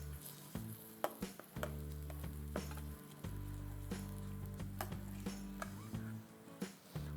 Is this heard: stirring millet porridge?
yes